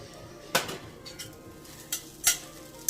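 Fried rice with crumbled fried egg is stirred in a pan: several sharp, irregular scrapes and clinks of a utensil against metal over a faint sizzle, close and fairly quiet.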